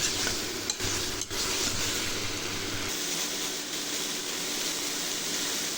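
A cauliflower and potato curry fries in a hot pan, a steady, loud sizzle running throughout with a couple of brief stirring knocks near the start and no voices.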